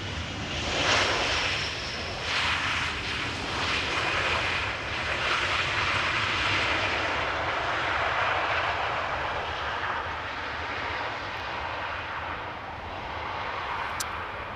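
An airliner lands at Amsterdam Schiphol Airport, its jet engines roaring steadily and fairly loud for the whole stretch, with a broad rumbling wash that slowly eases toward the end.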